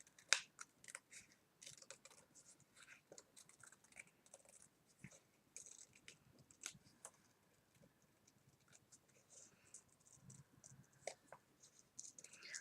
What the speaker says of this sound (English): It's better to do this with a small pair of scissors, obviously, because you're going at so many angles.